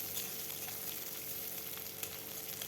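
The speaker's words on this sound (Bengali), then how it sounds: "পেঁয়াজ কাঁচা লঙ্কা দিয়েও কিছুক্ষণ ভেজে নেব।" Onion and green chili fry with pointed gourd peel in a pan, a soft continuous sizzle with faint crackles and light stirring, close but quiet, no voices.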